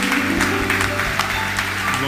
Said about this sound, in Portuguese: Vamos aplaudir o Senhor com a nossa vida